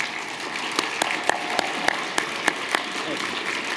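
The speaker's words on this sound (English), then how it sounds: "Let's give Howard a round of applause at this time." Banquet guests at a school principals' association dinner applaud a school district administrator, a steady soft clapping bed punctuated by a few sharp, evenly spaced individual claps standing out close by.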